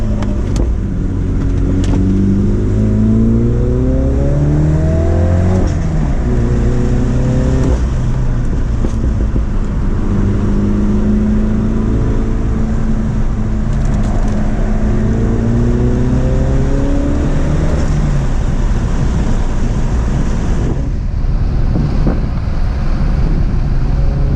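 An F56 Mini Cooper JCW with a Dinan Elite Stage 1 tune accelerates hard under turbo boost. The engine note climbs loud and continuous through repeated rising pulls, with a steady rush of road and wind noise and no talking.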